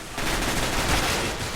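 Rapid automatic gunfire from a video game weapon being sprayed, a dense continuous burst of shots lasting over a second, loud and close with no talk over it.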